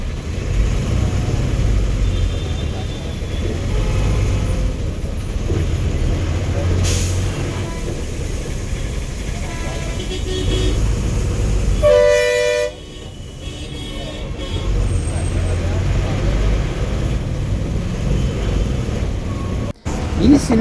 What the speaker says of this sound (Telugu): ఇక్కడ నుండి హైదరాబాద్ ట్రాఫిక్ కూడా మొదలైపోయింది